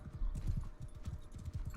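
Horse hooves clip-clopping in Mount & Blade II: Bannerlord, a quick, steady run of close, muffled thuds at a trotting-to-galloping pace with no talk.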